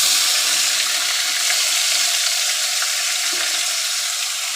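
Onion and tomato paste frying in oil spiced with cloves, cardamom, cinnamon, bay leaf and cumin, giving a steady, bright, continuous sizzle that stays loud and even throughout, with no talking.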